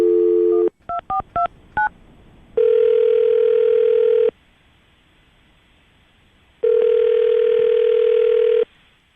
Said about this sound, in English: we're about to call Leslie and see if we can get an answer